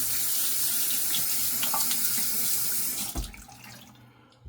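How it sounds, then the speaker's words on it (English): A bathroom tap runs steadily for rinsing after a shave, water splashing into the sink for a few seconds before it is shut off and the flow trails away. "gonna get a rinse"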